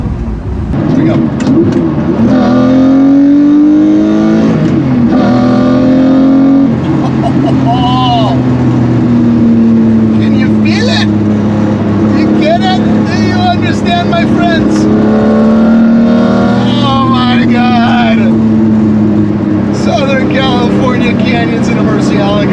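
A Lamborghini Murcielago with a 6-speed gated manual shifter driving through canyons, its loud engine rising and falling in pitch through the gears, with voices talking over it throughout.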